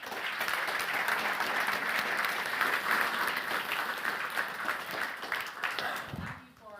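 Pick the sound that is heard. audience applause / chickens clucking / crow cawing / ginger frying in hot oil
audience applause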